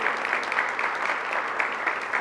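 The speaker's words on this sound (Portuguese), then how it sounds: "Uma salva de palmas" A church congregation claps together in steady, sustained applause during a service, a continuous even wash of hands with no voices over it.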